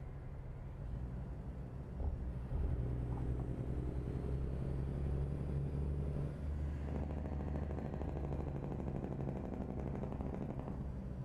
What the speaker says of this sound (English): It's the Jake brake, baby.